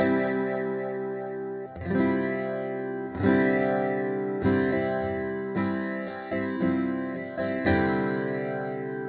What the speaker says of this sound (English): So if you wanted to take that down to half, it'd sound like this.